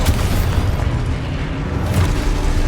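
A Confringo fire spell bursts in Hogwarts Legacy, a loud booming explosion with a sharp onset and a rumbling low-end tail that fills the whole moment.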